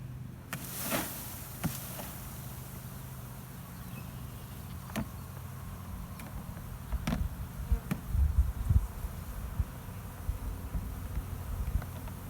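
A swarm of bees around holes in catalpa trees gives a faint, steady low hum, with a few clicks and bumps from nearby handling scattered through and no talking.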